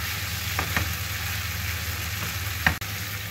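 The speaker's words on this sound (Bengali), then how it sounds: "খানিকটা সময় কষিয়ে নিচ্ছ নাকি? হ্যাঁ, কষিয়ে নেবে।" Beef liver (kolija) sautéing in a pan, a steady close frying sizzle with a few soft stirring scrapes and a sharp clack near the end.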